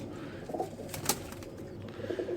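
A pigeon coos softly and close by over a couple of seconds, with a low murmuring background and no speech.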